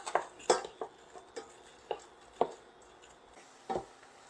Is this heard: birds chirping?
no